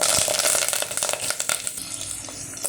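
Mustard seeds, cumin, garlic and curry leaves crackle and sizzle in hot oil in a pot, tempering for dal: a dense, close spray of hissing with rapid popping spatters throughout.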